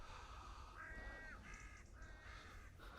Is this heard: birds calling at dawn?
yes